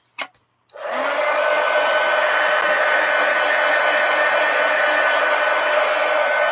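A hair dryer switches on after a brief clatter and then roars steadily and loudly, drying a gouache painting up close.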